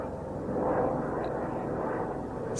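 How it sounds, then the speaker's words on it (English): Scenic tour helicopter passing overhead in open country, a steady low rotor and engine drone that swells slightly midway, distant and continuous with no talk. "Look at this helicopter flying overhead. It's one of the scenic tours."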